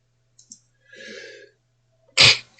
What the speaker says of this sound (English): I had to pause for the moment because I sneezed my head off